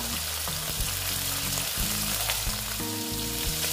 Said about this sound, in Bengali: মাছগুলো আমি একটু কড়া কড়া করে ভেজে নেব।